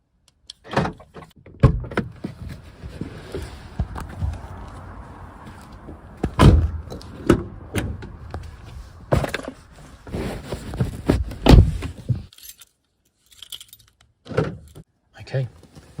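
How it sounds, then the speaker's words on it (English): Car door opened for climbing into the back seat, with sharp handle clicks, thuds, rustling and a door shutting amid shuffling movement, close by and fairly loud, ending in near quiet. "So what I need to do now is quickly open the door and get in the back before anyone sees me."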